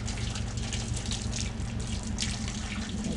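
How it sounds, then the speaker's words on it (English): Boiling water pouring steadily into a pot set up for steaming a Liberian old-fashioned pudding, a continuous close gushing splash with no talking. "So I'm just going to be pouring the boiling water."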